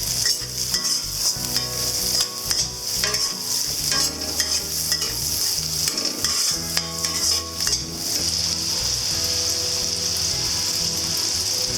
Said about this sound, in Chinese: 再倒入红萝卜翻炒